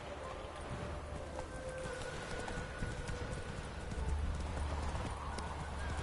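Roach, a horse in The Witcher 3: Wild Hunt, gallops steadily with continuous hoof clip-clops over a dense game soundscape, the hoofbeats loud and close throughout with no talk.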